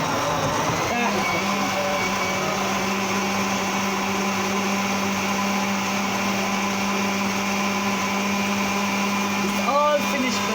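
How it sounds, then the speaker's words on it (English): An electric blender runs continuously, whirring loud and steady as it blends banana, grapes, raspberries, apple and lemon, with a low motor hum and a slight shift in tone near the end. "it's all finished blending. I love this blender. It's so powerful."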